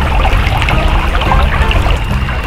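Creek water trickling and burbling close by, a loud, continuous babble of freshwater flowing over stones with no voices.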